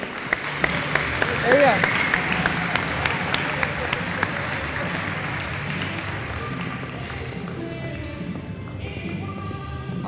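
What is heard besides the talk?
audience applause for the high school golf team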